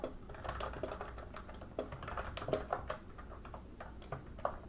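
Someone types on a computer keyboard while adding header code, giving quiet, irregular clicking keystrokes in short runs with small pauses between them.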